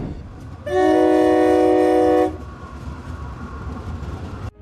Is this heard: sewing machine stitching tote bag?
no